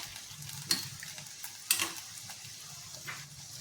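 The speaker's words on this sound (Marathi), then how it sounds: "किती छान असे गोल्डन कलर येईपर्यंत आपण असे मस्त असे तळून घेणार आहोत" Modaks shallow frying in oil until golden: a soft, steady sizzle close by, broken by a few sharp clinks and stirring clatters, no talking.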